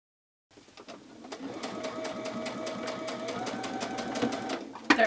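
A sewing machine with a walking foot stitches a quilt scallop edge: after brief silence it starts up into a quiet, rapid, even run of needle clicks and motor hum, ending with a sharper knock.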